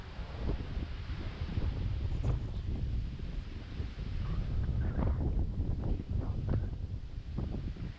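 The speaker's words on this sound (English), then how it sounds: "Look at that wind." Wind gusting across an open golf course during a two-person best-shot tournament, buffeting the microphone in a low, continuous rumble with faint rustling. The blustery roar stays steady throughout, with no voices.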